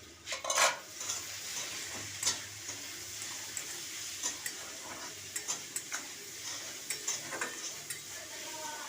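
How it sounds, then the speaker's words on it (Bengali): Vegetables are stirred in a pan over a low flame after the lid comes off. There are quiet, irregular utensil scrapes and clinks, one louder clatter near the start and a faint sizzle beneath, all close and without speech. "ঢাকনাটা খুলে একবার নেড়ে দিই"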